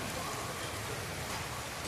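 Heavy rain pours down in a steady, dense hiss that fills the whole clip evenly, with no talking.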